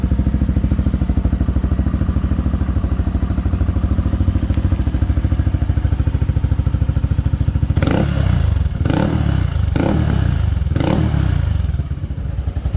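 A motorcycle fitted with a TRC power pipe exhaust and silencer idles with a steady, close throbbing putter, then is revved in four sharp bursts near the end before settling back.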